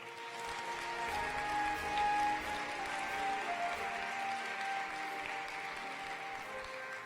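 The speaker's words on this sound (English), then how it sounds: "let's have a round of applause for all those graduates, soon-to-be graduates, and then also August graduates" Applause from an audience honoring graduates at a college awards ceremony, moderate scattered clapping heard from the room at a steady level, peaking briefly early on and then settling.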